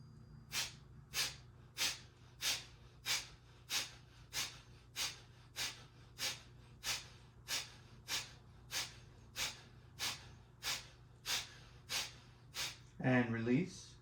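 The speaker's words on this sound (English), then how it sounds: "20 rounds of Kapalabhati." Rapid Kapalabhati breathing during a yoga session, about twenty sharp, forceful nasal exhales in a steady even rhythm, close and clear, followed by a brief spoken word at the end.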